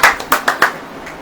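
Brief clapping from a church congregation at a Hindi sermon, a few quick hand claps that rise and fade within about a second and leave no one talking.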